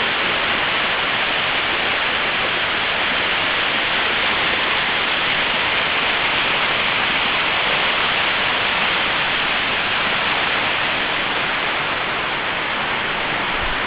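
A cascade waterfall in the Grose Valley pours as a dense, steady rushing wash of water, constant and fairly loud with no voices, during a burst of rain.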